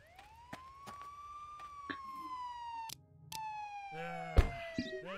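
A police car siren in the video game Contraband Police wails nearby in one long slow rising and falling tone, then briefly cuts out and resumes, with clicks and thuds around it and a little talk.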